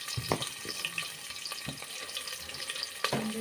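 Onion fries in a pan for village-style sambar, a soft steady sizzle broken by intermittent clinks and stirring scrapes, close and fairly quiet.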